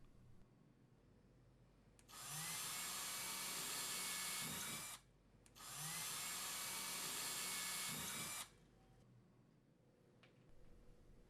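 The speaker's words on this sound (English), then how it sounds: "Then drill the holes for the fasteners using the marked holes." A power drill bores holes for wall fasteners in two steady bursts of about three seconds each, loud and close, separated by a short pause, with quiet room tone before and after.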